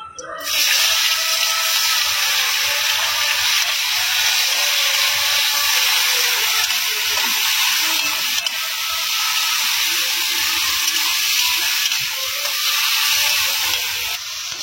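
Onion and tomato pieces frying in hot oil with cumin and bay leaf, a steady loud sizzle and hiss holding on without a break.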